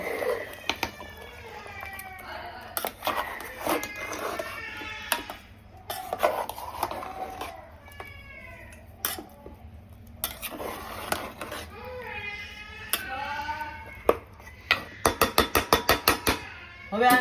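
A utensil scrapes and stirs a green paste of chicken and masala in a pan, with repeated clinks and scraping strokes, some faint sizzling, and a run of quick taps near the end, while someone talks intermittently.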